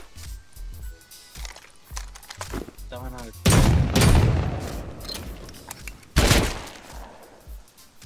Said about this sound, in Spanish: Yo tengo escopeta para romper armario